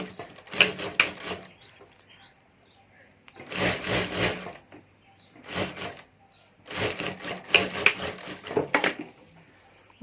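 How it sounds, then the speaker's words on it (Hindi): Short rapid bursts of a sewing machine stitching a lining onto a bag pocket, three separate runs of close, clattering needle action with brief quiet handling gaps between them. "यहाँ ऊपर हमें सिलाई कर देनी है"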